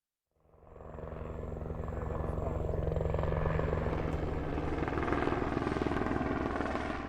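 A helicopter flies over a jungle reserve, its loud, steady rotor thump and engine drone rising in within the first second and then holding close and constant without any talk.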